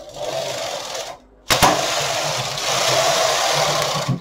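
A knitting machine carriage sweeps across a row of needles set up with waste yarn, a steady mechanical whir and clatter running about four seconds after a short pause, with no talking.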